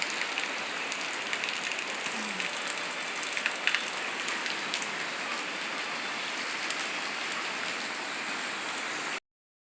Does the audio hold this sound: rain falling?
yes